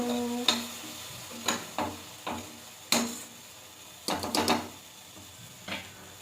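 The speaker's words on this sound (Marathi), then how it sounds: "मी असं परतून देते तुम्हाला" Butter paneer masala sautéing in oil, with a spoon stirring and scraping the pan in irregular clicks and knocks over a soft, steady sizzle.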